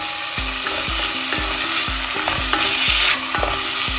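Chopped green chillies frying in a pan for mushroom biryani, a steady loud sizzle with a spoon knocking and stirring against the pan about twice a second, close and without talk.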